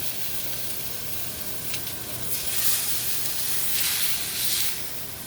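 Pork chops sizzle in a cast iron pan, a steady bright hiss that swells louder in two waves midway and near the end, close by with no voices.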